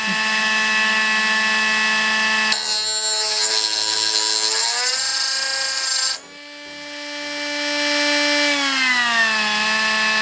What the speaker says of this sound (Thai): จะไปทำการทดลองใช้งานดูนะฮะว่าตัวเครื่องเจียร์มินิไร้สาย 3 นิ้วตัวนี้นะฮะจะใช้งานได้ดีหรือไม่นะครับ